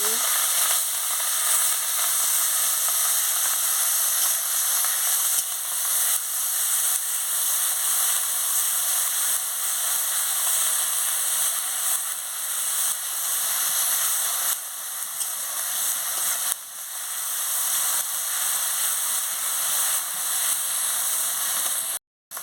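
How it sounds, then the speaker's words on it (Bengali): Onion paste frying in hot oil, a loud, dense and continuous sizzle that holds steady for the whole stretch before cutting off abruptly at the end. "গরম হয়ে গেছে, আমি পেঁয়াজ বাটাটা দিয়ে দিচ্ছি, দিয়ে ভালো করে ভেজে নিচ্ছি"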